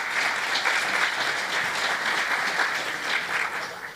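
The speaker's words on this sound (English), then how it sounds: "How about a round of applause for those great sponsors?" An audience applauds the sponsors at an annual regional economic forecast event at Salisbury University. The clapping is dense and steady, filling the whole stretch at a strong level and thinning slightly toward the end, with no talk over it.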